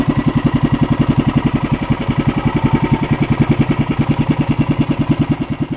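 A new small boat engine, not yet mounted on the boat, runs steadily at a fast, even putter, loud and close, with no other sounds over it.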